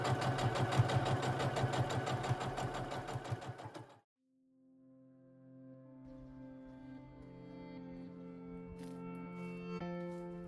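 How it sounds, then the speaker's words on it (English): Sewing machine stitching a soft two-fabric baby blanket, a fast steady mechanical rattle running close and loud for about four seconds before stopping, followed by quieter tonal hum. "I was able to just sew the blanket completely."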